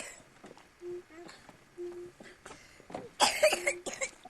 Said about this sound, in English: She has a cold and a cough.